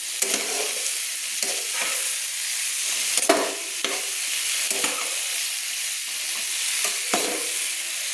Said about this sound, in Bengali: ভেজে রাখা আলু ওলকপিগুলো কড়াইতে দিয়ে আমি মশলার সঙ্গে সুন্দর করে কষিয়ে নিচ্ছি।